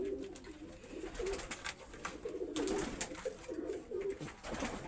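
Dabwale pigeons coo softly in repeated low, rolling calls, several birds overlapping against faint background noise.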